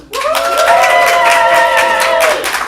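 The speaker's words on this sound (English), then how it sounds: "All right, all those who prefer the red team, applaud now." At a live improv comedy showcase, the audience bursts into sustained clapping and cheering for the red team, with loud crowd noise and a few whoops lasting a couple of seconds.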